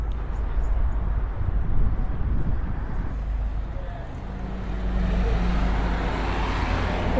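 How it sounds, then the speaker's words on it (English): The number 305 bus rumbles past on a street in Penarth during a heatwave, a low engine drone swelling and fading amid general traffic noise, with someone talking nearby. "There's the number 305 bus."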